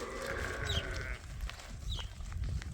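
Sheep on a farm, ewes about to join the field, bleat in a drawn-out call near the start followed by fainter, shorter cries amid outdoor background noise.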